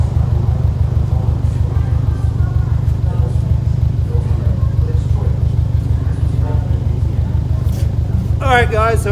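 A Subaru STI with an Invidia turbo-back exhaust idles with a loud, deep, pulsing burble close by, a steady throb throughout and a short rise in revs near the end.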